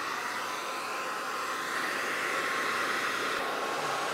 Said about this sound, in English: it's time to start diffusing. And you never want to use a hairdryer without a diffuser on the end